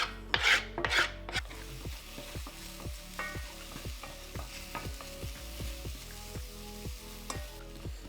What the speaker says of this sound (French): on commence par couper une échalote finement pour la faire rissoler. Un petit filet d'huile d'olive dans une casserole bien chaude